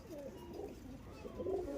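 A pigeon from a Meera bloodline coos softly in a low, rolling warble, close but faint and on its own, with a slight swell near the end.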